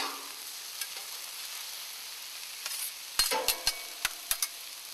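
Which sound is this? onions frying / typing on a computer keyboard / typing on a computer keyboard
onions frying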